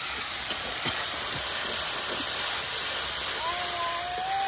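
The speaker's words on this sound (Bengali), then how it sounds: "এখন মশলাটা খুব সুন্দর করে কষায় নেন।" Spice paste sautéing in a pan, a steady soft hiss and sizzle with occasional scraping stir strokes and a faint whistling tone near the end.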